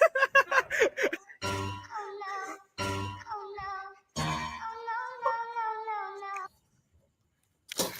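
A cat meows and caterwauls loudly and close by in long, wavering, drawn-out cries separated by short pauses, with one final cry breaking in at the end.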